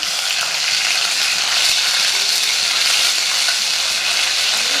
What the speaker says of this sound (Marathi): आता टाकणार आहे आपण जिरं, आलं लसूणची पेस्ट घरी केलेली आहे. ते छान परतून घेऊ आलं लसूण.